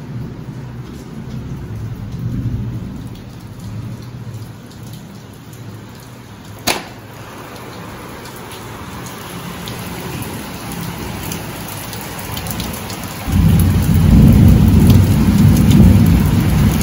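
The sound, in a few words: heavy rain and thunderstorm outside an opened door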